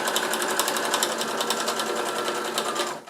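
Sewing machine stitching bias binding onto a faux leather backpack, a steady close whirring hum with rapid needle chatter running continuously for about three seconds before easing off at the end.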